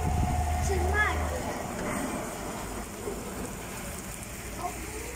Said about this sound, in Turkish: Yağmur nasıl yağıyor?